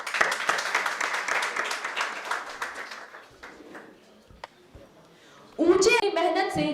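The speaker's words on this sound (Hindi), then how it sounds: "have a huge round of applause for her song" An audience claps through most of this stretch, dense and steady at first, then thinning out into scattered claps, with a louder burst of sound returning near the end at a Republic Day celebration at a school.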